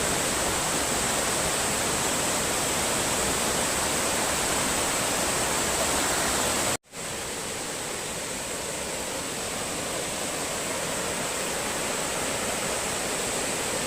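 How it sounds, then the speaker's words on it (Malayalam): A small forest waterfall in Kerala roars as a loud, continuous broadband rush of falling water, close and unbroken apart from a momentary cut midway, with no voices. "വളരെ ചെറിയൊരു വെള്ളച്ചാട്ടമാണ്."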